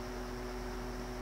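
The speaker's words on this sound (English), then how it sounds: "It's making like an electrical hum" Steady electrical hum and broadband hiss from a modified sine wave power inverter fan in a simple Harbor Freight solar setup, continuous and unchanging with no talking.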